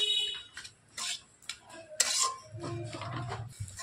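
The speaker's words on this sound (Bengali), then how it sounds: "এবার সবকিছু দিয়ে একটু ভালো করে নাড়াচাড়া করে মিশিয়ে পুরটা আমি খুব সুন্দর করে রেডি করে নেব" Kachori filling being stirred and mixed by hand: spoon or utensil scrapes and clinks against the bowl in short, irregular bursts, fairly close and moderately loud, with no talking.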